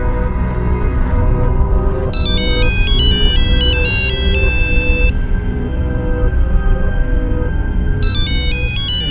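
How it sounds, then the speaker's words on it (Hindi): A mobile phone ringtone plays inside a house, a bright repeating electronic melody that rings in bursts over a steady low room rumble, fairly loud and without any talk. "हाँ हाँ, फोन तो अंदर बज रहा।"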